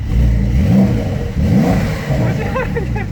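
Porsche 911 Carrera S Cabriolet, a 2020 model with a performance exhaust, revs loudly and up close in repeated rising bursts, its engine note climbing and falling several times.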